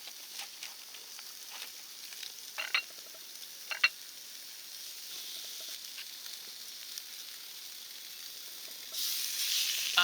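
Burgers sizzle faintly on the grill side of a Volcann stainless steel portable grill with a thin, steady hiss and occasional light pops and ticks. The hiss grows brighter and louder toward the end.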